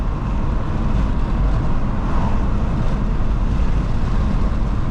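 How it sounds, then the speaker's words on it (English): A turbocharged car's engine and turbo drone steadily while driving, heard from inside as a continuous low rumble with a faint whistle above it and no talk. "Oh god, the turbo just sounds so good."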